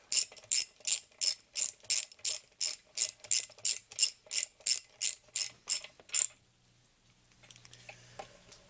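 A ratchet wrench seats bolts on a Penguin engine during a teardown, giving about sixteen crisp, evenly spaced clicks before the clicking stops and only faint shuffling remains.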